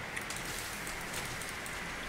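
Steady video game rain in 7 Days to Die hissing and pattering throughout, a constant wash of drops with no voices over it.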